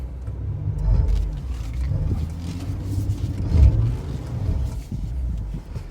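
A Jeep Gladiator JT on Cooper STT Pro 295/70R17 tires spins its wheels while stuck in four-wheel low, giving a close, steady engine drone with surging revs throughout and no talking.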